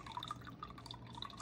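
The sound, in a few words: pouring soy sauce into crockpot broth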